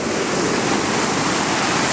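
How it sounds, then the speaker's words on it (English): Loud, steady rushing of water over rapids beside the Stewart Lake Trail in darkness before dawn, heard from a bridge as a continuous broadband roar close by with no other sounds. "Water, rapids."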